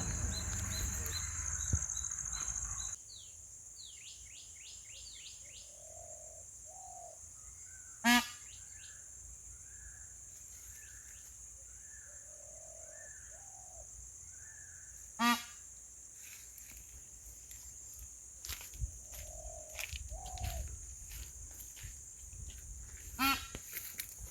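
Loud, sharp peafowl calls ring out several times, spaced apart over a quiet outdoor background, with softer bird honks and calls in between.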